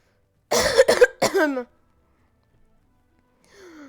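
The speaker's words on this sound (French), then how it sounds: "excusez-moi, je tousse" Two or three harsh, close coughs in quick succession, followed by silence and then a faint voice starting to speak.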